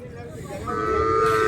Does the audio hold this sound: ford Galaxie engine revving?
no